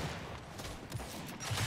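Gunfire in the Gears 5 video game during a ranked Control match: dense, continuous bursts of shots at moderate volume, rising slightly toward the end.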